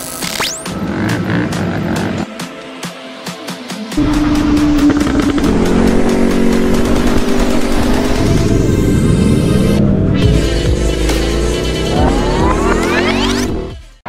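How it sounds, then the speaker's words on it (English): A tuned 2014 Aprilia RSV4 superbike blasts out loud rising revs through several gears, its harsh close engine howl climbing in pitch, with a brief lull between pulls before a final sharp drop-off. "It's probably the loudest bike I've ever heard"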